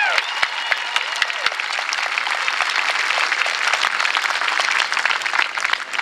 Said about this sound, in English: I think we ought to give Ken a real round of applause for planning this wonderful tea party today.